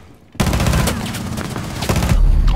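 Sustained rapid automatic gunfire in the tactical shooter game Rainbow Six Siege, loud continuous bursts starting abruptly after a brief quiet moment, with no talking over it.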